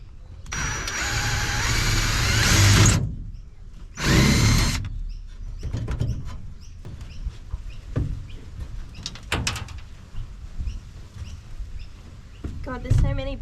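A cordless drill whines loudly in two close bursts as it bores out old rivets on a tinny boat hull, followed by clanks, knocks and handling sounds, with someone talking intermittently.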